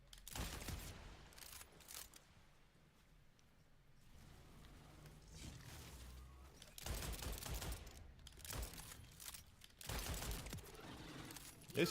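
Pistol gunfire in the shooter video game Borderlands 4, rapid bursts of shots and impacts in dense clusters with brief lulls, fairly quiet overall.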